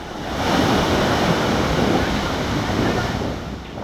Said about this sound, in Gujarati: નવસારીના ઉભરાટ બીચ પર દરિયામાં ઉછળ્યા ઊંચા ઊંચા મોજા